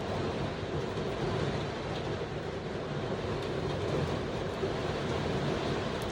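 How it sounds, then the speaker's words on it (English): Heavy rain pours down outside a home craft room, a steady dense broadband roar that holds unbroken throughout with no talking. "Gosh, it's bucketing down here."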